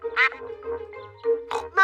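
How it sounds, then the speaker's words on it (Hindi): A cartoon duck on a pond gives several nasal quacks in quick succession, close and clear against silence, with short gaps between the calls. "देखो, वहाँ तालाब में बत्तख है।"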